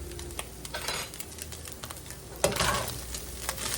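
Smothered burrito filling is stirred in a hot pan, with a soft continuous sizzle under light scraping and clinks of a utensil and a louder stirring burst partway through, no talking.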